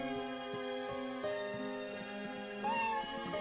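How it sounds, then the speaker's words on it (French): A cat meows in an animated series, with a short meow heard over sustained tonal music in the background. "Miaou."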